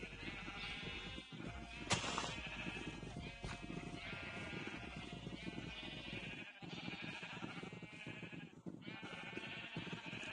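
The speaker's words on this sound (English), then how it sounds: "Oh my goodness, so many sheep." Several sheep bleat in Minecraft, repeated wavering nasal cries overlapping one after another in a busy flock, fairly close and continuous over light game background.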